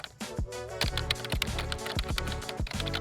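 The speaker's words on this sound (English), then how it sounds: "So let's type a password in." Someone types a password on a computer keyboard, a close, steady run of crisp key clicks and taps in an uneven rhythm, with a few heavier thumps mixed in and no voices.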